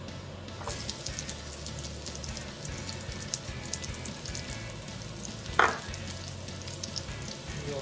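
Onion fries in a pan of oil with a steady, moderate crackling sizzle. Soft scattered pops come through, plus one louder clatter partway through.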